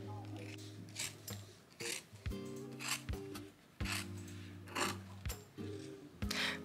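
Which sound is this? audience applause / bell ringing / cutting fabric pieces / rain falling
cutting fabric pieces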